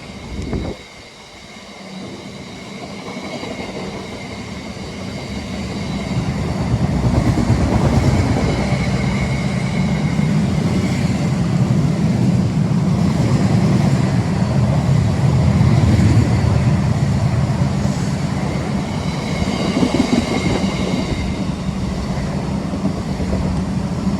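A heavy diesel locomotive, a Class 66, rumbles past close by, a steady low diesel drone with rail noise building over the first seconds and holding loud throughout.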